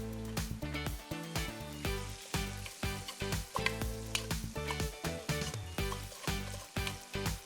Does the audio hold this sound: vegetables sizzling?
yes